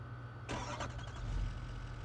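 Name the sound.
truck engine starting in video game Farming Simulator 25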